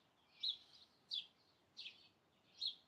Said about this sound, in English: There's a noisy little bird.